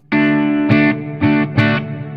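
Electric guitar with a light reverb from an EarthQuaker Devices Dispatch Master pedal, four short strummed chords in quick rhythm, close and clear with a brief ringing tail, no other sound.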